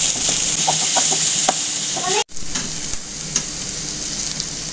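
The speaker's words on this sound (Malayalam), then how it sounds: "ഇഞ്ചി വെളുത്തുള്ളിയാണ് കൂടുതൽ വേണ്ടത് അത് നല്ലോണം വാട്ടിക്കൊടുക്കും" Green chili, garlic and ginger sauté in a hot pan, giving a steady, close sizzle with light stirring clicks. A brief dropout breaks it midway.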